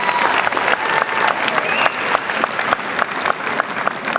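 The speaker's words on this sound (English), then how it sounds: "Please join me in a round of applause for the Master of Science in Healthcare Policy and Management students" A large crowd at a 2023 graduation ceremony claps loudly for Master of Science in Healthcare Policy and Management students, the applause sustained and full with a few sharper claps standing out.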